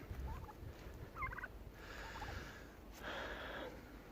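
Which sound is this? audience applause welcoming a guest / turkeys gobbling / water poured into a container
turkeys gobbling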